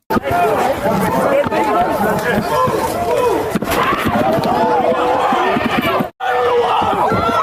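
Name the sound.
unruly crowd at a food stamp protest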